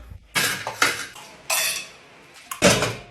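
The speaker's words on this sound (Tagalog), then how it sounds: "Hans, maghugas ka muna ng plato doon." Plates and dishes being washed, with four separate bursts of ceramic and metal clattering and clinking set apart by short quiet gaps, close by and without talk.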